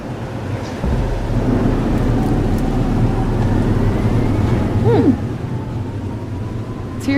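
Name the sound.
thunderstorm in video game Life is Strange: Double Exposure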